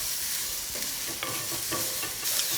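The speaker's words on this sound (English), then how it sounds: "Give that a good stir." Onions being stirred in a sizzling lamb curry pan, a steady frying hiss with scraping spoon strokes over it, close and without speech.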